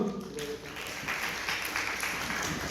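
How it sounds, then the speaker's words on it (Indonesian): Audience applause in a law-student case-review session, a steady broadband wash of clapping that holds evenly for a few seconds at moderate level, with no voices on top. "Kita kasih aplaus lebih dulu"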